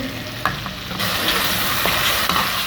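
Minced meat keema frying and being stirred in a pan for samosa filling, a dense, loud sizzle that swells after a moment, with scraping spoon strokes and no speech.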